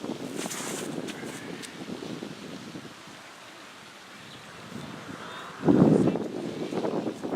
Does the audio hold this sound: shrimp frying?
no